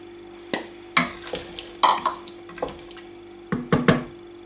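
Peas stirred into tender lean meat in a cooking pot, a series of short wet scraping and clattering strokes, close and distinct, with a soft simmer between them.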